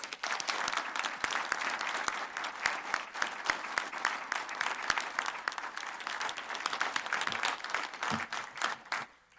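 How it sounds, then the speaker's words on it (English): Sustained audience applause at the close of a congressional district candidate forum hosted by a voters' league in Nevada, dense steady clapping throughout, moderately distant and fading at the end. "Let's go ahead and give them a round of applause."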